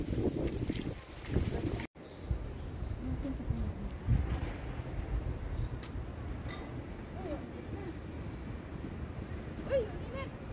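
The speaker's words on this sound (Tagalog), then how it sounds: "Lakas ng hangin." Strong wind buffets the microphone outdoors in a park with a constant low rumbling roar, while voices speak faintly underneath.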